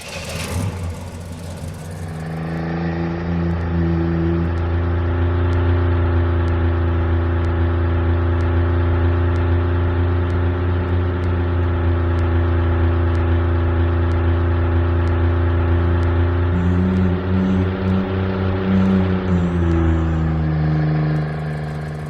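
A synthesized car engine built with MetaSound drones steadily while driving, a loud, continuous harmonic hum that settles into a constant pitch, then dips and rises slightly near the end.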